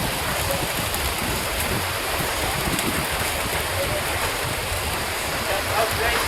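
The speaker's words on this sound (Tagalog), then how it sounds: "Lakas ng ulan ah." Steady, dense hiss of heavy rainfall, continuous and loud throughout with no pauses.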